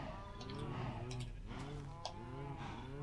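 Cows moo in a Minecraft-style game, several drawn-out bellowing moos overlapping one another at a fairly quiet level, with no talking.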